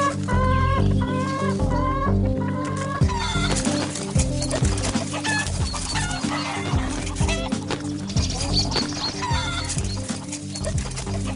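Chickens in a coop clucking close by, a busy overlapping chorus of short clucks and cackles, with a few higher calls that rise above the flock, continuous and loud with no speech.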